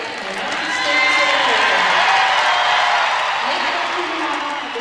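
Arena crowd at the Northern Lights Hall in Lillehammer applauds and cheers for figure skater Nancy Kerrigan during her introduction at the 1994 Winter Games, a broad steady wash of clapping that swells and holds, with a commentator talking over it.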